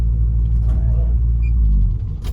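A 550 hp Cummins engine in a Kenworth W900 truck cranks and nearly fires, giving a heavy, steady low rumble close by that falters and drops off just before the end.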